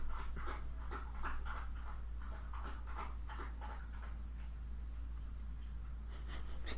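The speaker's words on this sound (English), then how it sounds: "Is that your dog drinking?" A dog lapping water from a bowl a couple of rooms away, a faint rapid series of wet laps repeating steadily under a constant low electrical hum.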